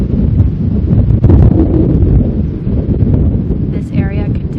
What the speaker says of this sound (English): There's a bit of a windstorm going on out there. It is extremely windy now.